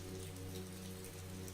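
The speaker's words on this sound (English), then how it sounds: "As the rain continued to fall around them" Steady rain falls across Amsterdam streets as a dense, even hiss with a soft low hum underneath, constant and moderately loud with no voices.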